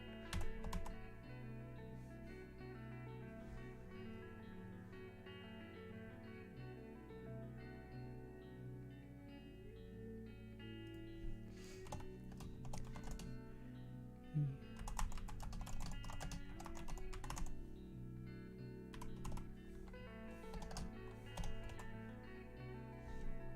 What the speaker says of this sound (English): Accidentally pressed down. This is a sensitive keyboard.